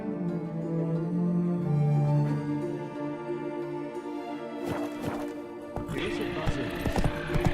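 Horse hooves clip-clop in The Witcher 3 game, a steady walking rhythm under a music bed, with sharper clattering steps in the last few seconds as the horse is reined in; no clear whinny stands out.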